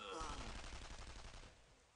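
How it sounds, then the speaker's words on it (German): Gunfire in the World War II shooter Brothers in Arms: Earned in Blood: a loud burst of rapid shots cracks out at the start, then rolls off and fades over about two seconds, with no talk over it. "Was war das denn gerade für ein Schuss?"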